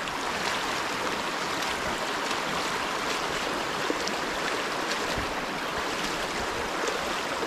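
Broadband rushing water from a flowing river, the Amina river in Cahobanico, Sajoma, Dominican Republic, steady and continuous throughout with no talk, fairly close and even in loudness.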